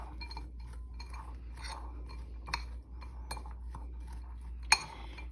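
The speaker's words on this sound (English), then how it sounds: "a quarter cup of brown sugar, and a quarter cup of pecans, and a teaspoon of cinnamon. Mix that all together." A spoon clinks against a bowl while brown sugar, pecans and cinnamon are mixed, with sparse light taps and one sharper clink over a steady low hum.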